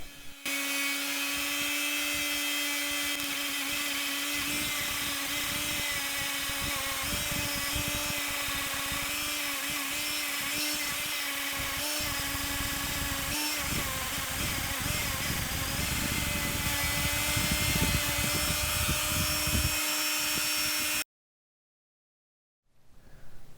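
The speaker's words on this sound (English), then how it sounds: "I used a Dremel multi-tool and some stainless steel wire brushes to clean them up" A Dremel multi-tool fitted with a stainless steel wire brush cleaning tarnished electrical connectors on an Austin 1300, a loud continuous high-pitched whine with a scratchy grinding texture, close and steady for about twenty seconds before stopping abruptly.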